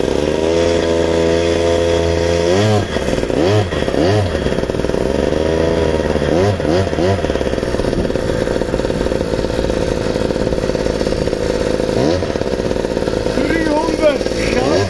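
LEM 50 Italian two-stroke minimoto running on mixed fuel, loud, buzzy and close, with repeated throttle blips rising and falling before it settles into a rough idle.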